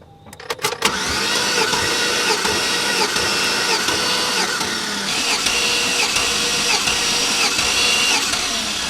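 A Chevy truck engine with a suspected blown head gasket cranks steadily during a compression test: a few sharp clicks, then a continuous rhythmic whirring starter drone, close and loud, with no talk.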